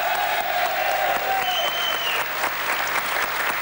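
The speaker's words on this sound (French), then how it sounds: "Je voudrais qu'on applaudisse relativement fort les 2 dernières représentantes du public." A studio audience on a French-language TV game show claps for two contestants, steady sustained applause of many hands, fairly loud and unbroken, with no voices over it.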